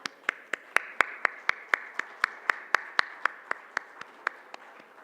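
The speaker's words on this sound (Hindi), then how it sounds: "प्लीज़ सर के लिए ज़ोरदार तालियां" Hands clap at a steady, even tempo during an honour ceremony at a cooperative digital transformation session, a moderately faint run of about twenty sharp, separate claps rather than a full roaring ovation.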